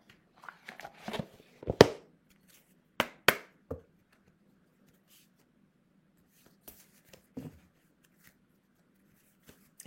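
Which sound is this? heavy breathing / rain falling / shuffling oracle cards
shuffling oracle cards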